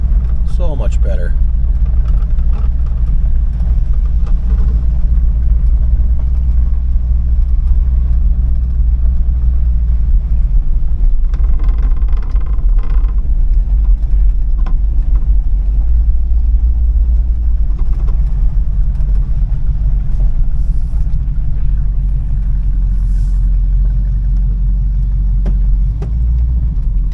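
A 1986 Chevrolet Suburban drives along with a loud, steady low engine rumble and mid-range drone, the shifts blending into the continuous road noise as someone talks over it from inside.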